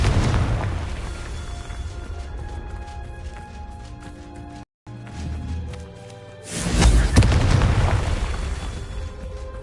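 A Confringo explosive spell from Hogwarts Legacy goes off as a heavy boom, then a second, louder blast a few seconds later. Crackling and rumble linger after each blast, with no voices.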